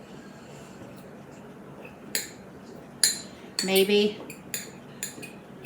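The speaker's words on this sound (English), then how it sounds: "I'm going to give this a quick whisk." A metal whisk scraping and clinking against a pot of beef broth for slow cooker brisket, a few short scratchy bursts with a louder rattling stretch near the middle, close up, and a brief spoken word.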